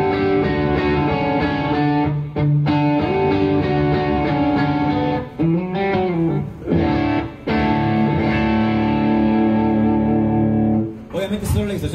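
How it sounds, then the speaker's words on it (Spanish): An electric guitar run through a distortion effect rings out loud and close, playing sustained, buzzing chords and held notes with a few brief breaks between phrases, with no talking. "Obviamente solo la distorsión suena raro"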